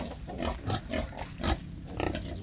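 A sow and her piglets grunt and oink in a pen, a dense run of overlapping close grunts and squeals repeating every half second or so with no talk.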